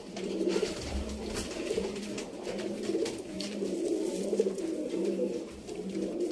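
A Rampuri pigeon coos steadily nearby, soft throaty pulses repeating in a regular rhythm over quiet background noise, with no talking.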